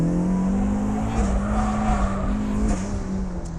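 A turbocharged Mazda Miata on a hot lap at a race track, engine droning loud and steady near the microphone with tires squealing through the corners.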